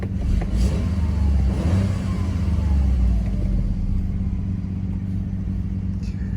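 Nissan R34 Skyline GT-R engine running close by: a low steady idle rumble that swells briefly as it revs early on, then settles back to an even drone with no voices.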